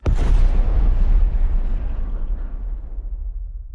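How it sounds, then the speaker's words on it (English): A UN spaceship blows apart in a sci-fi TV space battle from The Expanse. One loud, sudden blast swells into a broad roar, then rolls off into a long, fading rumble. "A UN ship just got blown to scrap."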